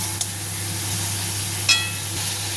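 Cauliflower sizzles in a pan as it is stirred with a little water for a vegetarian Kolkata-style curry, a steady low frying hiss with one sharp clink of the utensil partway through.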